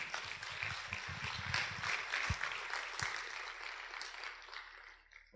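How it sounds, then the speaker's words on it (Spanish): A church congregation applauding during a Spanish-language sermon, steady mid-distance clapping from many hands with a few sharper claps, fading out near the end. "Denle un aplauso al Señor."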